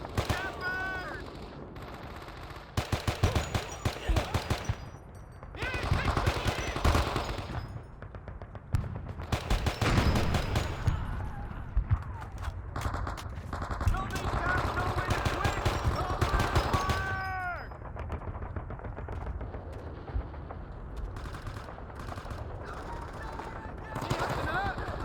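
Sustained machine gun fire in the Men of Valor video game, set in the Battle of Hue City, with long rattling bursts and brief lulls layered over battlefield noise and occasional shouting voices.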